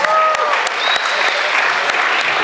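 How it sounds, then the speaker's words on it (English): A crowd at a wildcard cosplay competition claps loudly and continuously, with a few whoops or whistles rising above the dense applause. "Round of applause, boys and girls."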